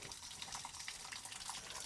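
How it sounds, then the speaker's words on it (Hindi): A forest waterfall spills over rocks into a pool below, a steady rushing splash that stays close and fairly loud with no voices. "ये देखिए दोस्तों किस तरह से पानी गिर रहा है नीचे"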